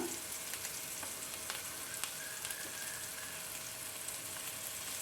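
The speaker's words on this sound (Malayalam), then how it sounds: "നമ്മൾ ഷാല ഫ്രൈ ആണല്ലോ ചെയ്തെടുക്കുന്നത് അതുകൊണ്ട് തന്നെ ഇടയ്ക്കിടയ്ക്ക് നമുക്ക് ഓയിലൊന്ന് ചുറ്റിച്ചു കൊടുക്കാം" Paneer shallow frying in oil in a pan, a steady faint sizzle with soft occasional spits and pops, heard close and alone.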